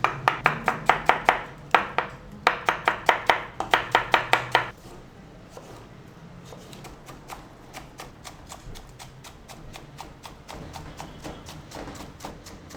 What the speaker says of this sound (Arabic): وهيك بتفرم الخيار ناعم